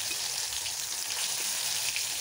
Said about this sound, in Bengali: দুই পাশে আমি একটু ভালোভাবে ভেজে নিলাম, এখন টমেটোটা চুলা থেকে নামিয়ে নিব